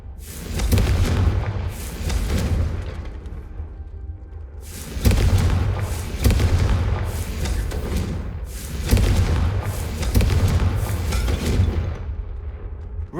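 Fire spell blasts from Hogwarts Legacy go off in a repeated series of loud, heavy booms, each followed by a rumbling, crackling tail, with short lulls between the bursts.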